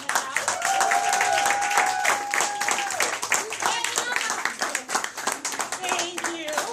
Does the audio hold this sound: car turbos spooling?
no